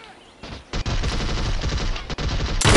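Gunfire in the mobile shooter Modern Strike Online: loud, dense rapid automatic fire, sustained with only a couple of split-second breaks before a harsher burst at the end.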